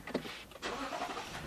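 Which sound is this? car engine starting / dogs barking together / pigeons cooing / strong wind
car engine starting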